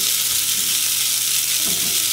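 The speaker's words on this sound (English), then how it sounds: "And then I'm gonna let that fry a little bit" Rice mixture frying steadily in a pan, a continuous close hiss and sizzle with a soft low bump near the end from stirring or pressing; no talking.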